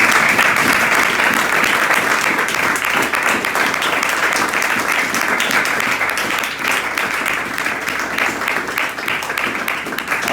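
A church congregation applauds in worship, loud continuous clapping that fills the space and stays even throughout.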